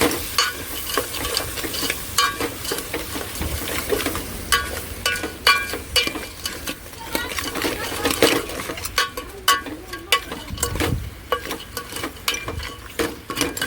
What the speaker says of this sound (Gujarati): હવે આપણે હલાવી નાખશું.